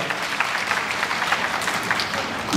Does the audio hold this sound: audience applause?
yes